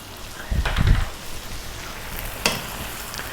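Garlic chicken and tomato sizzling in a pan over lively heat with no oil, a soft steady fry broken by a louder burst of stirring and a brief clatter of the utensil.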